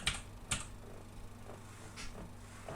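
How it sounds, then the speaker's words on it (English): Keystrokes on a computer keyboard, a few separate clicks spaced about half a second apart, fairly quiet in a still room with no talking. "I'll try typing it in."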